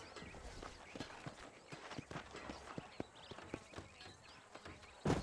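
Horse hooves clip-clop in the Red Dead Redemption western video game, a loose rhythm of fairly close, distinct strikes on hard ground, quiet overall, with a brief louder burst at the end.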